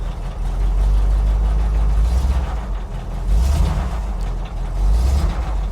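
A cold Jeep FSJ J-10 truck with a carbureted engine that needs adjustment idles on a freezing day, its choke unhooked. The deep rumble runs steadily close up, with a few slight surges and dips.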